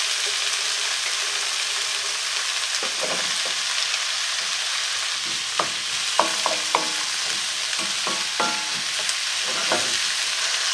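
Ginger, courgette and carrot stir-frying in a wok, a steady broad sizzle throughout with scattered sharper clicks and scrapes of stirring growing more frequent in the second half, close and fairly loud, no talk.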